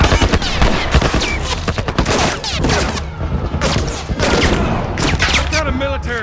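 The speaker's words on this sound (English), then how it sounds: "Military turret, just stay down!" A military turret machine gun fires in The Last of Us Remastered, loud rapid bursts of automatic fire in dense, overlapping volleys that continue almost without pause.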